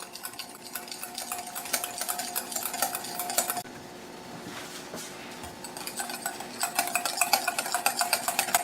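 Garlic aioli being stirred steadily in a bowl as it thickens, with peanut oil being added, giving a close, continuous scraping and clinking of utensil against the bowl's side that pauses briefly midway.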